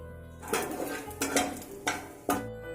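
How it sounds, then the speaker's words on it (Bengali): Whole garam masala, dried red chilli and bay leaf get stirred in hot oil in a pan: four distinct metallic scrapes and clinks of a spatula at a steady pace, close up, over a faint background. "তেলেতে আমি গোটা গরম মশলাগুলো দিয়ে দিচ্ছি আর দিয়ে দিচ্ছি শুকনো লঙ্কা তেজপাতা ও ফোড়ন দিয়ে কিছুক্ষণের জন্য নেড়ে নিচ্ছি"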